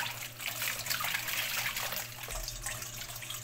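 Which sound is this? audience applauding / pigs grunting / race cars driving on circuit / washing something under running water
washing something under running water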